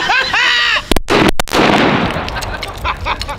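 A few sharp, loud blasts in quick succession, the last echoing and rumbling as it fades, with a voice briefly at the start.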